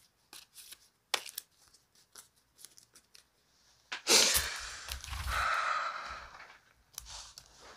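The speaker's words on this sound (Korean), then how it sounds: "먼저 그 사람의 모습에 대해서 타로 카드 선택해 볼 겁니다" Tarot cards are shuffled and handled up close, with scattered soft taps and flicks followed by a louder sustained riffling sweep, then a few lighter card sounds near the end.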